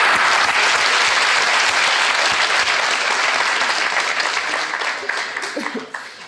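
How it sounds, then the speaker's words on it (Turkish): Loud applause from a studio audience during a talk show, dense clapping that gradually thins out and fades toward the end. "Koca alkış."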